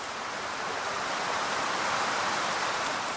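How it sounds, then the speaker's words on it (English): Rain just beginning to fall outdoors beside a sun-powered parabolic mirror, a steady dense hiss of drops close by, continuous and fairly loud with no talking. "It's just started to rain"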